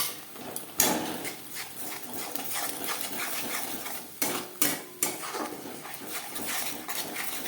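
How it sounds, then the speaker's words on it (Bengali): Ginger and green chili paste being stirred in a pan for pomfret fish curry, with a spoon scraping and several sharp metallic clanks against the pan over a low background sizzle. "কাঁচা গন্ধ যাওয়া পর্যন্ত নাড়াচাড়া করে নেব"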